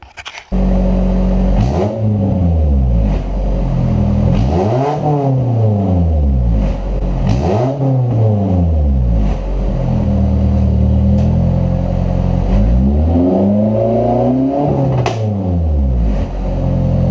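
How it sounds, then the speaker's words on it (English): A Honda S2000's loud, raspy exhaust with an open test pipe revs up and drops back repeatedly, each blip rising and falling with a crackling, unmuffled roar between throttle pulls. "Now we'll do an open test pipe, see what that sounds like"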